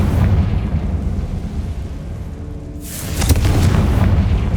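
A Confringo fire spell goes off in the Hogwarts Legacy video game, a sharp loud blast that follows a dense rumble inside a tomb and leaves a broad crackling burst ringing to the end.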